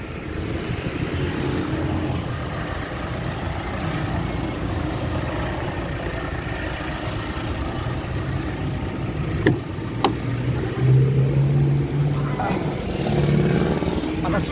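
Cars drive together in a convoy in Indonesia, giving a continuous low engine rumble and road hum from inside a vehicle. A few brief knocks and a passing tonal engine note rise near the end.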